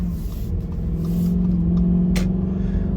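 An Audi A6 4.2 Quattro V8, running at full power after a faulty high-pressure fuel pump was replaced, drives along the road with a steady, loud engine drone and rumble heard from inside the car.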